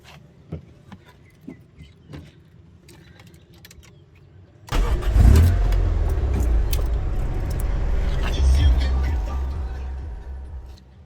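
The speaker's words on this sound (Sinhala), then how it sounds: "අපි වාහනේ ස්ටාර්ට් කරන් බලමු එන්ජින් සවුන්ඩ් එක කොහොමද කියලා" A 1991 Toyota Sera engine cranks and fires up near the five-second mark after a quiet stretch with a few faint clicks, then settles into a steady, loud idle that holds to the end.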